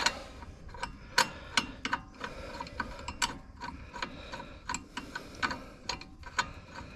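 Puller being screwed into the clutch of a Kawasaki Mule 4010 utility vehicle, heard as a steady run of sharp metallic ratchet clicks, close and fairly quiet, with no talking.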